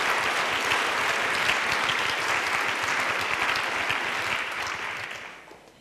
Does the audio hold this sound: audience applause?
yes